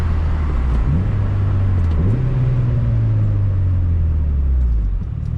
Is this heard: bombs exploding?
no